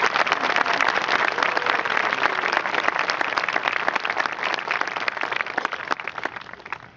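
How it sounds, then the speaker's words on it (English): An audience at a 2012 graduation ceremony claps in steady, dense applause that fills the room and slowly fades toward the end. "Please join me in a round of applause."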